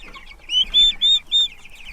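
Young turkeys and three-week-old chicks forage on pasture, giving a quick run of about four bright, high chirping calls over soft background rustle, close by and with no voices.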